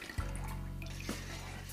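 Lye and water mixture being poured into oils for handmade olive oil soap, a brief soft pour with a faint drip, close and quiet.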